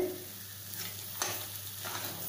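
Pineapple sheera with cashews and raisins is stirred in a pan, giving a continuous soft sizzle with a few scraping strokes of the spoon, close and steady, with no voices.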